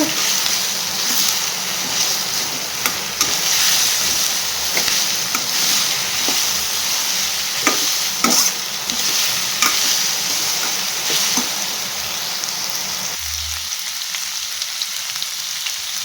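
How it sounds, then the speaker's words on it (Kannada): Bitter gourd frying in a generous amount of oil: a loud, continuous sizzle close up, broken by regular spatula scrapes and stirring clatters, with a brief dull knock near the end and no one speaking. "ಸ್ವಲ್ಪ ಹುರ್ಕೋಬೇಕದ. ಅದಕ್ಕೆ ಎಣ್ಣೆ ಒಂದು ಸ್ವಲ್ಪ ಜಾಸ್ತಿ ಹಾಕ್ಕೋಬೇಕು."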